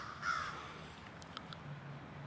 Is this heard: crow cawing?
yes